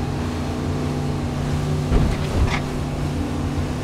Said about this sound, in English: We'll circle back around and hit that and show you just how much this boat shakes.